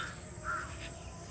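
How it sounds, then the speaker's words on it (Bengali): Birds call beside the Halda River in Bangladesh: a couple of brief, crow-like caws, faint and somewhat distant, over a quiet outdoor river ambience. "পাখির কুজন, নদীর কলকল শব্দ"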